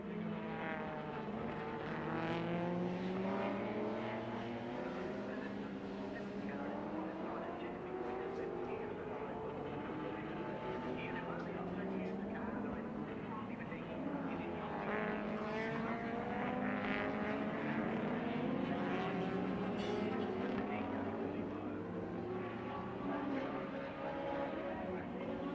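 Touring car engines drone steadily at the 1987 Calder 500 WTCC race, with rising and falling pitch sweeps as cars pass, under continuous commentary voices.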